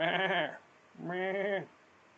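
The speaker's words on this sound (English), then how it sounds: "My neighbors across the street have a goat." A goat bleats twice from across the street, each call a long wavering cry with a short quiet gap between them, heard clearly with no talking.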